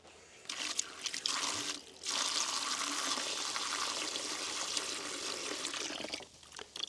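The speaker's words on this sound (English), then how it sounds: "I'm also going to add just a little bit more water as well" Water pours steadily into a copper sulfate Bordeaux mix solution, a loud continuous splashing stream with a short break before it resumes and then tapers off.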